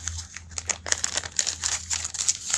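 Plastic crinkles and rustles close by in irregular bursts, as if a bag is being handled and folded.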